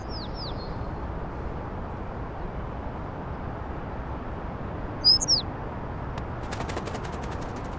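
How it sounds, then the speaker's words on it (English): A bird in the video game Little Kitty Big City gives a couple of short high chirps at the start and again midway, heard faintly over a steady low ambient hiss. "I hear a bird. I see a bird."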